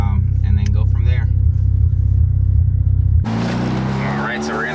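A turbocharged Mazda RX-7 drives with a loud, steady low engine rumble that shifts to a lighter, airier road and engine tone partway through.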